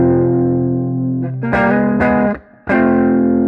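Electric guitar played through an amp simulator with the treble turned down, giving a softened, distorted tone: a sustained chord, then several strummed hits with a brief gap before a final ringing chord.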